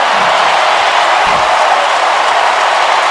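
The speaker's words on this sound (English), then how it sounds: "Crowd going crazy with 15 minutes to play." Stadium crowd roars at the 2017 Iron Bowl between Alabama and Auburn, a dense, steady wash of cheering and noise that holds loud and unbroken throughout.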